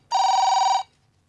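A telephone bell rings once in a single short, loud trill that stops abruptly, leaving a quiet room.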